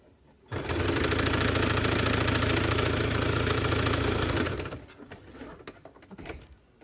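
Sewing machine stitching down folded fabric layers, a steady rapid mechanical whir running loud and close for about four seconds before stopping, followed by quiet handling noises.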